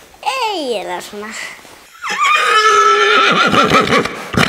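A horse neighs in a long, loud whinny with falling pitch near the start, then a second louder, vibrating whinny fills the later half, while a person speaks briefly between them.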